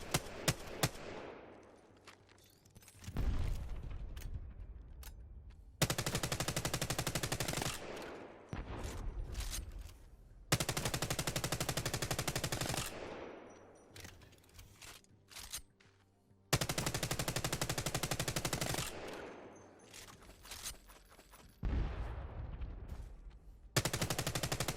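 Rapid automatic gunfire in the video game Apex Legends, driven by a Cronus Zen rapid-fire mod, bursting in long loud sustained stretches separated by brief pauses, with no talking.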